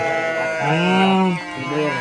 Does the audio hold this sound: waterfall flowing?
no